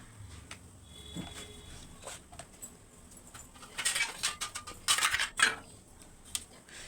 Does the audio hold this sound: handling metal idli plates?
yes